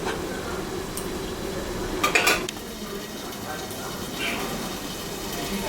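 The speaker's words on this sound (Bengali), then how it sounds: "আমি এখন ঢাকাটা দিয়ে দিলাম।" A lid is set onto a cooking pot of shrimp and shola kochu (taro), making a brief metallic clink over a continuous low sizzle and faint kitchen clatter.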